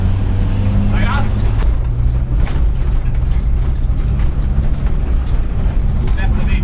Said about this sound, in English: Definitely needs a gearbox then. Off-roading, bit of off-roading.